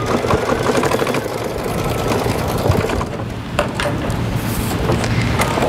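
An embroidery machine running the center tacking stitch of a 3D posy, a loud, close, continuous rapid needle chatter with a few sharper clicks partway through.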